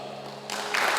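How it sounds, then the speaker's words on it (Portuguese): Clapping from an audience at a church gathering starts quietly and quickly swells into louder, denser applause within a second. "todo mundo bateu palma"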